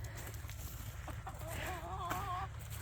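A hen newly moved into a run on a homestead gives soft, faint clucks and brief warbling calls over a low steady background hum at sundown.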